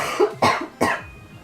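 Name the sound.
cough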